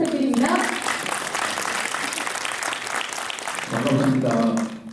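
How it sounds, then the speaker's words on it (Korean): Audience applause at a Gwangju education forum, a hundred-person debate, with steady clapping filling a large room and a voice talking over it near the start and again toward the end. "박수 부탁드립니다"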